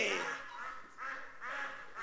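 A human voice imitates ducks, giving three nasal quacking calls in a quick uneven series, close and fairly quiet.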